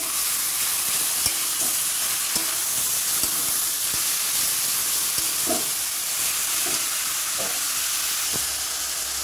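Taro leaves with chickpeas fry in spiced oil and are stirred: a steady close hiss and sizzle runs throughout, broken by occasional soft scrapes and clicks, with no talking.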